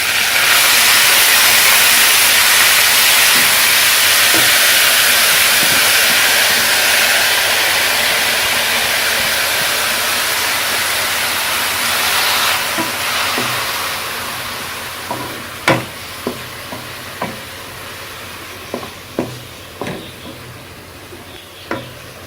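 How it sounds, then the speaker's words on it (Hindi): Chopped spinach drops into fried cumin and hisses loudly in a steady sizzle that slowly fades, and a spoon stirring it gives a series of sharp scrapes and taps near the end. "अब हम इसमें कटी हुई पालक डालेंगे।"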